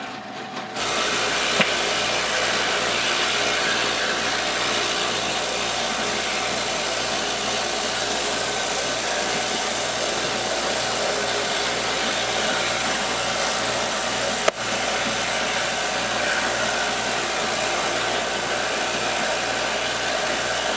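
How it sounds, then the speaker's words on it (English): A Lot-O vibratory rock tumbler hums and vibrates steadily, a constant close whirring drone with a faint rhythmic pulse underneath and no voices. "This tumbler also makes a lot less noise than the tumblers."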